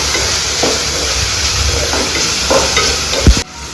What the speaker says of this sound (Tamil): ஆனியன் நல்லா வதங்கினதுக்கப்புறம் நம்ம வந்துட்டு தக்காளி ஆட் பண்ணியாச்சு.